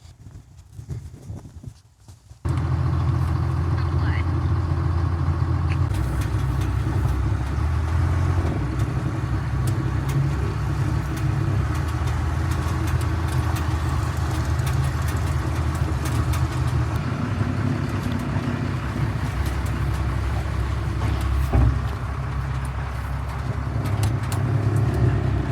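A pickup truck engine idles close by with a low, steady rumble that starts after a brief quiet moment and runs on evenly.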